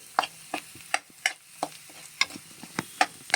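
Onions and green chillies frying in a pan for crab curry, with a low sizzle under repeated scraping stirring strokes, about three per second, close and clear, with no voices.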